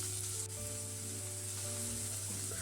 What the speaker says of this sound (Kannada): ಇವಾಗ ನೀರುಳ್ಳಿ ಮತ್ತು ಹೆಚ್ಚಿಟ್ಕೊಂಡಿರುವಂಥ ಕ್ಯಾಪ್ಸಿಕಮ್ ಎಲ್ಲ ಹಾಕಿ ಎಣ್ಣೆಯಲ್ಲೇ ಬಾಡಿಸ್ಬೇಕು.